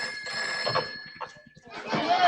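A telephone rings in a TV advert for a kitchen tap, its repeated electronic trills set among faint voices and background sounds in a short burst.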